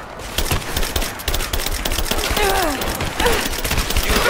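Gunshots in the video game Rise of the Tomb Raider, a dense rapid burst of loud automatic fire, close and continuous, with faint voice-like sounds mixed in.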